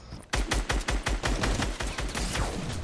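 Rapid video-game gunfire as an enemy team shoots at the player in a battle royale endgame, a fast burst of sharp cracks in a loud, near continuous stream lasting a few seconds with no talk.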